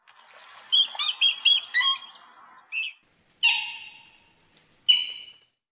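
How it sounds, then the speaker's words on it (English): A common moorhen calls in a series of sharp, chirping notes followed by a few separate loud squawking calls with pauses between, heard clearly against a quiet background. "Moorhen."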